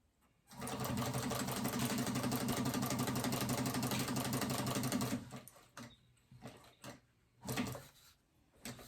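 A sewing machine runs long basting stitches on a fabric phone pouch, a steady rapid mechanical whir for about five seconds, then a few short bursts and clicks as the fabric is adjusted.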